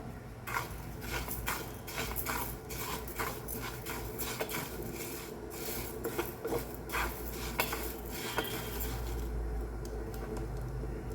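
Split green gram (cheru payar), unwashed, is dry-roasted in a pan and stirred, making a quiet, steady rustle with repeated light scrapes and taps of a spoon against metal.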